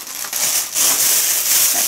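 Close, crisp crinkling of a plastic bag being handled, in a few rustling bursts.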